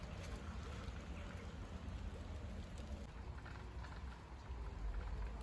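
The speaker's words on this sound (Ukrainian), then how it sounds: "Дощ почався в 4 часа, зараз у нас уже 8 годин вечора і не перестає." Steady evening rain keeps falling after hours of downpour, a continuous hiss of drops on surfaces with low rumbling underneath, quite faint and even, no voices present.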